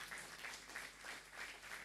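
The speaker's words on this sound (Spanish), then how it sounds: "Gracias por el aplauso." A church congregation applauding during a sermon, a very faint, brief patter of clapping heard from a distance.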